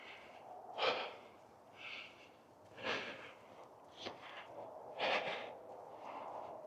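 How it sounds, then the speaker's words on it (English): A person climbing breathes heavily and close to the mic, with about five loud, breathy exhales spaced roughly a second apart against quiet outdoor air. "I'm sure you guys can tell by my heavy breathing."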